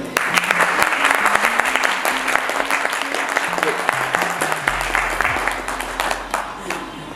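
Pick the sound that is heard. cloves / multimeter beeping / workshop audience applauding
workshop audience applauding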